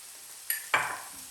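About 250 grams of rice stirred in a single pot, giving two brief scraping, rustling strokes close by with a faint sizzle beneath, and no talking.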